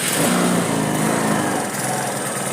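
A motorcycle engine cranks over and catches on a 12.7 V battery, then runs at a steady, buzzing idle for a few seconds, loud and close, with no one speaking.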